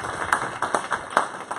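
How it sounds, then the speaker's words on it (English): Scattered, sparse clapping from a meeting audience for Principal Scott: a handful of separate claps spaced irregularly over a steady background hum, fairly close and moderately loud. "Give a round of applause for Principal Scott."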